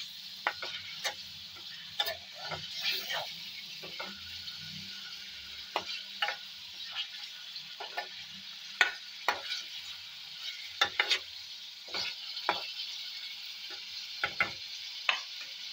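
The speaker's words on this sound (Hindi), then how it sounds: "थोड़ा सा चिकन को भून लेना चाहिए" Chicken frying in a pan for achar gosht, a quiet sizzle with repeated clicking scrapes of a spoon stirring at irregular intervals, no voices.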